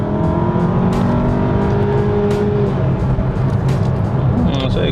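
A VW Beetle accelerates hard through its gears, the engine note rising in steady harmonic sweeps from inside the cabin, loud and continuous with a driver's voice over it.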